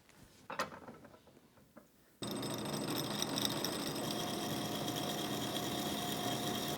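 A drilling machine turning at about 300 RPM bores a hole for a bicycle stem in a workshop, starting after a few soft handling clicks as a sudden, steady, moderately loud motor hum with a faint whine.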